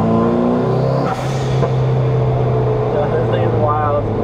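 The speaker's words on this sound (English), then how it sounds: "this may be the most rowdy car I've ever driven" A rowdy car revs hard on the move, loud and close, its engine tone dropping and then holding a strong, rough drone.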